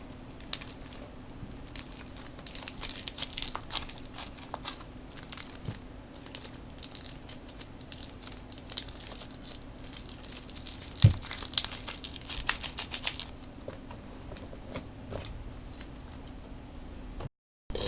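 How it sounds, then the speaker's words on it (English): Crunchy homemade slime is squished and pressed by hand, making continuous close crackling and crinkling pops that swell and fade for about seventeen seconds. "Here is the crunchy slime."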